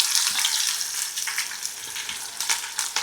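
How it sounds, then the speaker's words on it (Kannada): Eight large onions sizzling in a generous pool of oil at the start of a mutton curry, a steady loud frying hiss with occasional stirring crackles throughout. "ಸ್ವಲ್ಪ ಕೆಂಪಾಗಬೇಕು ಮಾತ್ರ ನೀರುಳ್ಳಿ, ಒಳ್ಳೆ ಕೆಂಪಾಗುವವರೆಗೂ ಫ್ರೈ ಮಾಡಬೇಕು ಇದನ್ನು"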